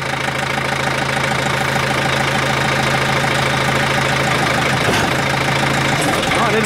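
A snowplow engine under repair runs loud and close in a rough, steady idle with a knocking beat, and its rhythm stumbles briefly near the end.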